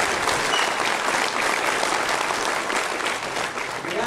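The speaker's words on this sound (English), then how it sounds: "A big round of applause for the" A conference audience at a product leadership event breaks into sustained, dense applause, loud and steady throughout, with no voices standing out.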